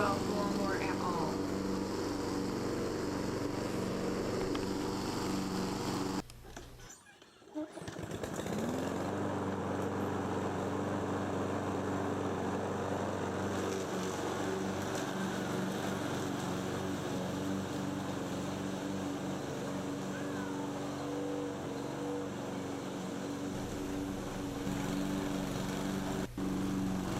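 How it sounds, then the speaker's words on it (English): A lawn mower engine drones steadily and close by, cutting out briefly and then resuming as a dog plays nearby, with occasional talk over the motor. "She does not care about the lawnmower at all."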